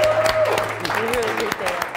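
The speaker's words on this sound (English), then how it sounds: "Can we give a round of applause to Ian for tonight's event?" A short burst of applause, scattered claps from a crowd blending into steady clapping with a voice partly audible underneath.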